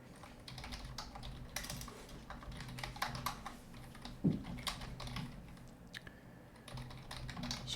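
Steady typing on a computer keyboard, a continuous run of close, quick key clicks with uneven rhythm and one sharper tap midway, with no voices.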